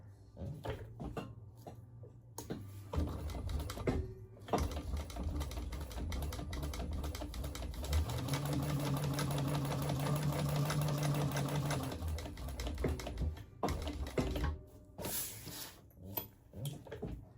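A sewing machine stitches a bucket bag in rapid, continuous bursts, with a higher steady whir in the middle stretch. Short pauses and light handling clicks fall between runs, at close range and fairly quiet.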